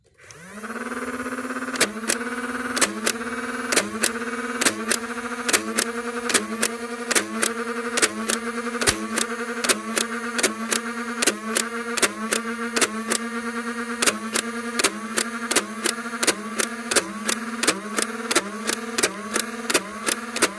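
Nerf Big Power Electric 509 blaster firing a mix of Big Power and Dart Zone darts on a range, a steady motor whir punctuated by a rapid, regular string of sharp firing thwacks that continues throughout, close and loud with no talking.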